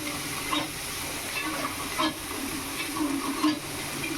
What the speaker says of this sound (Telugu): ఇప్పుడు అల్లం వెల్లిపాయ పేస్ట్ ముద్ద వేసుకుందామండి.